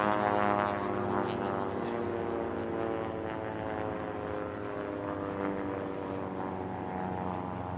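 A racing biplane's engine drones past during a Biplane Class heat at the 2022 STIHL National Championship Air Races, a steady, moderately distant buzzing hum that eases slightly as it goes by.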